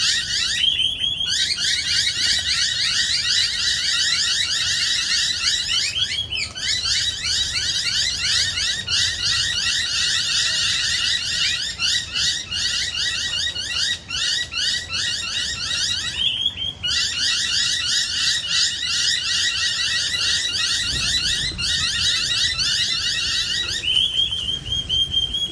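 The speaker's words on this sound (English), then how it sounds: "That's fantastic to hear the alarm calls as soon as they went out" Noisy miners give loud, rapid, harsh alarm calls in sustained bursts with brief pauses, close and continuous throughout, in a Brisbane mangrove.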